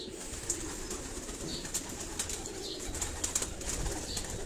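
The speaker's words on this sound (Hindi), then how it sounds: "ये उनके जोड़े वाले कबूतर हैं।" Breeding pair of pigeons on a rooftop loft in Karachi, cooing softly and repeatedly against a steady background hum, with a few faint chirps scattered through.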